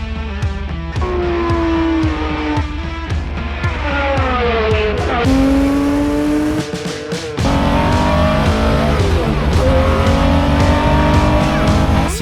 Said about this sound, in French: La Porsche 917.